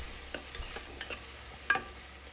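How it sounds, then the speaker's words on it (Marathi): Ginger, garlic, chilli and coriander paste sautéing in hot oil: a faint, steady sizzle with a few light stirring clicks and one sharper scrape of a spoon. "त्याच्यामध्ये मी आलं लसूण मिरची कोथिंबीरची पेस्ट घालत आहे तीही तेलावर आपल्याला व्यवस्थित अशी परतवून घ्यायची आहे"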